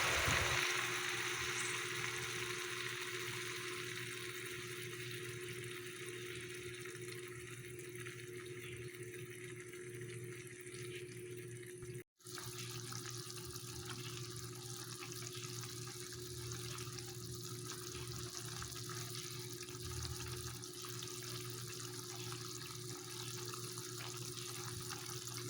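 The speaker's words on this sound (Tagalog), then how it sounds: "At sa parte pong ito ay lalagyan na rin natin ng tubig." Water runs steadily into a cooking pot for sardines sauteed with bok choy, a continuous close pouring and rushing sound with a brief break midway, no talking.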